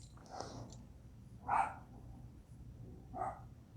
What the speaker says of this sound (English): I'm listening to my dog bark